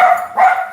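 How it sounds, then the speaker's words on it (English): Two short barks from dogs indoors, fairly close, a quick yappy pair with a brief pause between them. "I know you guys on YouTube can hear the dogs"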